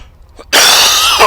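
A single loud, harsh cough bursts out suddenly after a moment of near silence, very close and raspy.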